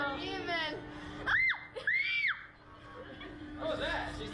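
A woman gives two short, high, piercing screams in a row, with quieter chatter and laughter from other people around them.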